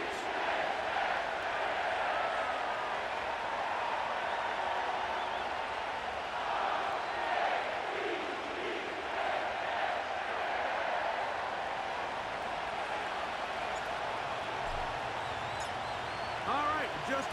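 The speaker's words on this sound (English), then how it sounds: "The crowd is definitely ready." A stadium crowd roars steadily in a Madden NFL 25 football game at M&T Bank Stadium, home of the Ravens, a dense continuous wash of cheering with talk over it.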